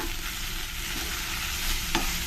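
Chopped fenugreek leaves fry with onions in hot oil, giving a dense, continuous close-up sizzle with a faint utensil tap partway through.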